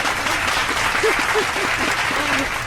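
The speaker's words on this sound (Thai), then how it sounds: "ปรบมือให้น้องเองมาหน่อยครับ" Applause for a model at the end of a BMW 330Li M Sport car review, a steady wash of clapping from a small group, fairly close, with a brief voice or two.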